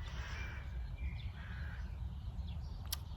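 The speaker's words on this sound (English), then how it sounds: "Raven is here like yesterday." A raven calls outdoors with a couple of harsh caws, moderately distant over a steady low background rumble, brief and with no voices.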